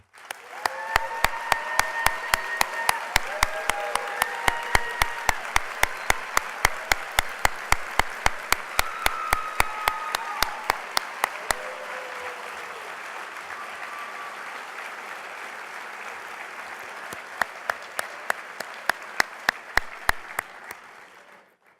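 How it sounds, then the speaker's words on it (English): A round of applause fills a banquet hall at an awards dinner, a steady dense wash of many hands clapping with sharper individual claps standing out, fading gradually toward the end while a few voices murmur beneath. "join me in a round of applause"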